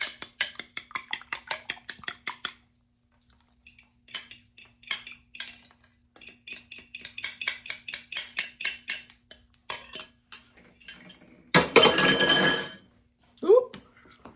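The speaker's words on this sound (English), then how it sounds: "Now I'm gonna fold the egg in." Metal utensil clinking and scraping against a pot while egg is folded into stovetop brown rice pudding, in steady rhythmic bursts with pauses, ending in a louder rattling clatter.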